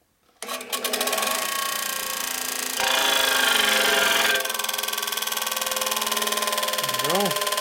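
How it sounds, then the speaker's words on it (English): Valve seat being ground on a 1950 Harley-Davidson Panhead cylinder head, a steady high-pitched motor whine that rises in pitch partway through, with a short rising whine near the end. "But I'm going to grind it this way right now, just to see what we get."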